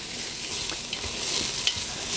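Garlic aromatics sizzle steadily in a pot while a spoon stirs them, making soft scraping strokes under the frying hiss, with no voices.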